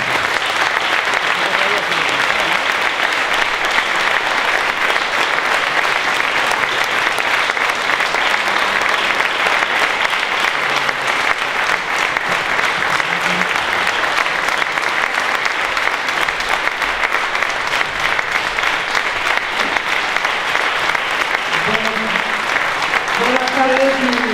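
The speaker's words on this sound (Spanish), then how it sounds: "para recibir con el aplauso que merece a Elena, a la madre de Alfo, y que el aplauso que le dediquemos se oiga en prisión" A crowd at a rally against the criminalisation of protest gives sustained, loud applause, dense clapping from many hands that keeps going without pause, with some voices calling out near the end.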